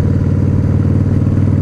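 A Harley-Davidson Dyna Street Bob engine rumbles loud and close with a continuous, rapid low-pitched throb as the motorcycle rides at steady speed, with no voices.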